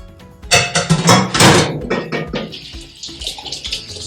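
Kitchen tap water splashes loudly as hands are rinsed after shaping meatballs, with bursts of hand movement under the stream before it settles into a thinner, steady hiss of running water.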